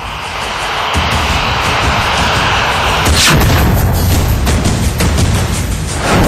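A military aircraft's engine roars loud and close during mid-air refuelling with the Indian Air Force, a steady powerful drone that swells and grows harsher partway through, with no talk.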